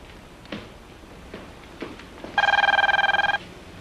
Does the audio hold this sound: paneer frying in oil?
no